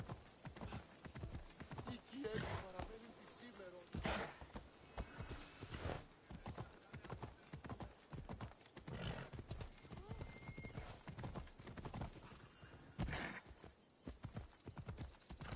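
Horse galloping in the Assassin's Creed Odyssey video game, with rapid, continuous clip-clop hoofbeats close up, mixed with a whinny and busy in-game background sounds.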